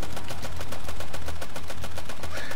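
Rapid gunfire in the video game How to Survive 2 rattles out in a fast, steady run of loud, sharp shots that continues for the whole stretch.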